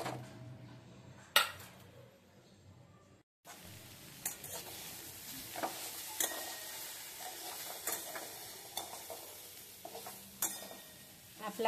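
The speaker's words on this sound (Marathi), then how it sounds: "तर चला तर मग आपण आता प्रथम कांदा फ्राय करायला ठेवूया" Onions frying in a pan for dhaba-style shev bhaji: a quiet, continuous sizzle broken by sporadic clinks and scrapes of a spoon against the pan, close but soft, with a brief silent gap early on.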